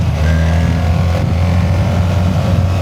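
BMW R 1300 GS Adventure motorcycle engine pulling hard under throttle from first gear, a loud, steady low rumble sustained throughout with no talking.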